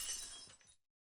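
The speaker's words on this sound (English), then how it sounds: "The sound of the watch shattering." A watch shatters in a visual novel game, a single bright crash of breaking glass and metal bits that fades out within a second, quiet and alone.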